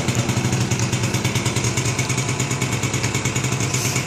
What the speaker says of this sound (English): Two-stroke air-cooled engine.